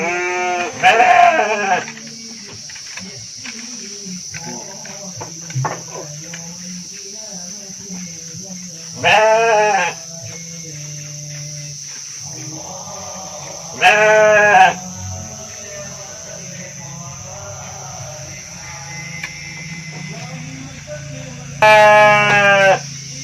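Sheep bleat in a livestock pen in a village at dusk, loud calls coming in short bursts every few seconds over a steady insect hum and low background murmur.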